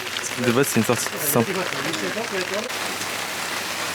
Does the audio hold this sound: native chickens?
no